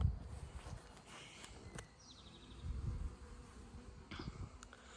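Honey bees hum softly around a backyard hive at dusk, a faint, steady buzz with a few individual insects passing close by.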